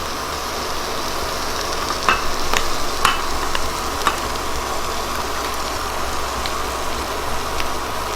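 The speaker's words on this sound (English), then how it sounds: "And I give it a big stir." Salmon Wellington filling with thyme, breadcrumbs and cream cheese stirred in a pan, a steady low sizzle under repeated scraping and clicking of a spoon against the pan, close by.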